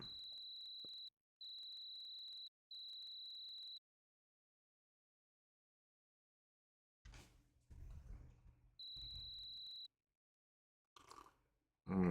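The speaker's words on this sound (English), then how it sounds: "The cricket noise, yeah." Synthetic cricket chirps from the video game Ultima 7 Serpent Isle come in steady, evenly spaced bursts, faint and alone, with quiet gaps and a few soft rustles between them.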